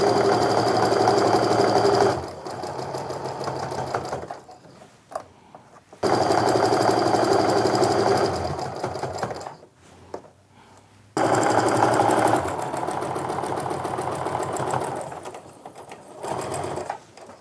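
A sewing machine stitches a seam along quilt half-square triangles, running in long steady bursts with short pauses between, close and loud with no talking.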